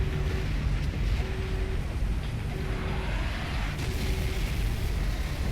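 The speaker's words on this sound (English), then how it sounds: "this explosion is just perfect" A large explosion in Halo 3 roars as a dense, sustained rumble with heavy low-end energy, loud and continuous throughout, with no voices.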